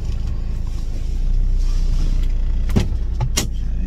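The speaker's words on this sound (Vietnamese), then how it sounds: "Đó, cửa đóng rất là êm." The door of an imported Daewoo Gentra X 1.2 automatic swings shut with a soft, muffled thud, followed by a second light knock, over a steady low background hum.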